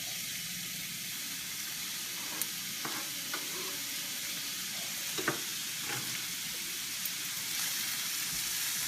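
Onions sizzling and frying in a pan on a stove, a steady soft crackle with occasional small pops and stirring clicks, close and alone without talk.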